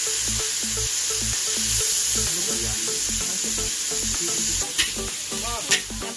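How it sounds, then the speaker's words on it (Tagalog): Vegetables for pansit bihon with canton stir-fry in a hot pan, giving a steady loud sizzle broken by rhythmic stirring and scraping clanks, with a couple of sharper knocks toward the end. "So ilalagay natin yung gulay."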